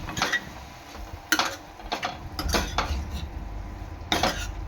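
A ladle scraping and clanking in a metal pan while mahua fruit curry is stirred, several sharp irregular metallic strokes over a low background simmer, no talking.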